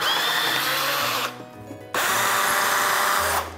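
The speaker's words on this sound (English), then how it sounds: "We're gonna start by drilling the hole." Power drill whirring loudly in two bursts while drilling a hole in fondant on a cake, with a brief pause between them as the motor drops and then spins back up.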